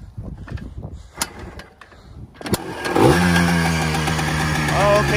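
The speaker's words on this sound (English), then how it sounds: "It should start in like 45 kicks or so." A Yamaha Blaster ATV with a factory muffler is kicked over with several quiet attempts, then fires up with a sharp burst into a loud, steady two-stroke idle, close to the mic.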